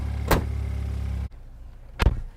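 A BMW 528i F11 wagon with the N20 engine hums at a low idle before setting off, marked by two sharp nearby thumps like doors or controls and a sudden drop in the background rumble between them.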